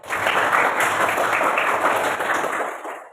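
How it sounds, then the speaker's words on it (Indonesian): A classroom audience claps steadily for the first group after a practical teaching exam on fried rice, a dense wash of many hands that holds for about three seconds before tapering off. "tepuk tangan dulu untuk kelompok 1"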